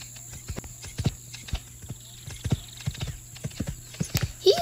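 Horse hooves clip-clop in a steady walking rhythm in a Roblox equestrian game, crisp repeated knocks at moderate volume, with a brief neigh-like sound near the end.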